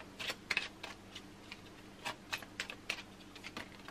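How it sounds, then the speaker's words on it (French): Nada divination cards handled and drawn from a deck, quiet, irregular soft taps and card flicks, close and faint, with no voices. "je vais vous tirer une dernière carte"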